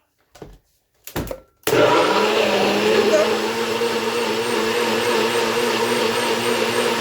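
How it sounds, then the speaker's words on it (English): After a few brief knocks, a blender blending cucumber juice roars to life and runs steadily at high speed, loud and close, grinding continuously until the end. "I'm just going to put my lid on and get blending."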